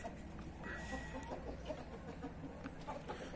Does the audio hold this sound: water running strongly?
no